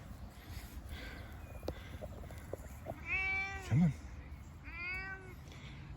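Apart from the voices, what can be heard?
indoor-outdoor cat meowing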